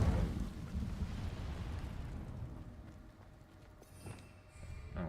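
An Incendio fire spell bursts in the video game Hogwarts Legacy, a loud, deep, rumbling blast that slowly fades, followed by faint crackles and small pops.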